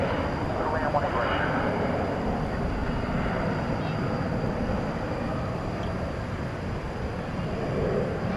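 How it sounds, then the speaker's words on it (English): Aircraft at night at Dallas/Fort Worth Airport on the west side of the field, a steady broadband engine rumble holding throughout, with a voice speaking over it. "a lot of aircraft are waiting to take off"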